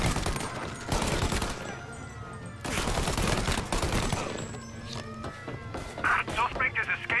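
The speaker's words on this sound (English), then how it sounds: "A gunfire and an explosion reported in the Corleone Hotel." Gunfire and an explosion in the video game Mafia Definitive Edition, with loud rapid bursts of shots rattling almost continuously over a dense, rumbling background, followed by lighter sporadic pops near the end.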